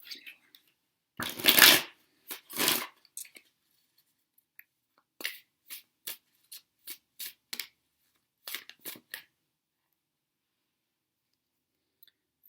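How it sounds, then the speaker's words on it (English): Tarot cards are shuffled by hand during a reading: two longer riffling bursts, then a run of quick, soft card flicks and taps, close up and otherwise quiet. "I'm going to shuffle though"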